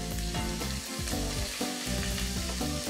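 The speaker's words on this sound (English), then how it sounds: "Now, into that, I'm going to put my ginger and garlic paste." Ginger and garlic paste sizzles loudly in hot ghee, a dense continuous frying crackle close up, stirred now and then, with no voices.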